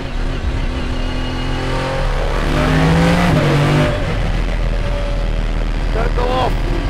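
A very loud, noisy car accelerates hard on a driving course, its engine rising steadily in pitch and then dropping as gears change, close and continuous throughout.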